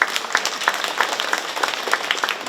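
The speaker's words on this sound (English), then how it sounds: "Let's give Steve and Jessica another round of applause" An audience at a company annual meeting applauds after a presentation, a steady, lively wash of many hands clapping together in a hall, with no voices over it.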